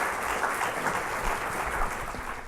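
Steady audience applause after a presentation on a user experience web series, a dense, even wash of many hands clapping throughout with no speech.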